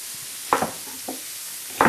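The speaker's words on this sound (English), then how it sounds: "Now that our meat is happily browning in our pan" Beef stew meat browns in a hot pan with a loud, steady sizzling hiss throughout. A few short scraping stirs of the meat cut in over it, and no one speaks.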